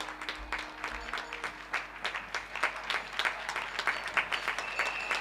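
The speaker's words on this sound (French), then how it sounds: "On se quitte avec les applaudissements de Belleville" Crowd applause from Belleville, a dense patter of many hands clapping at a steady moderate level for several seconds, slightly distant.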